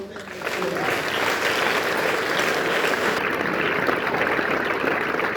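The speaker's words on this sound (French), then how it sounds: "Une conférence, applaudissons pour Philon" Conference audience bursting into sustained applause, a dense wash of many hands clapping steadily and loudly, with a faint voice briefly underneath at the start.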